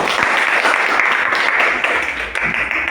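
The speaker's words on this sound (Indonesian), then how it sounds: "Tepuk tangan." Applause from a classroom audience after a group presentation during a teacher training session: a continuous, fairly loud patter of many hands clapping at once, fading slightly toward the end.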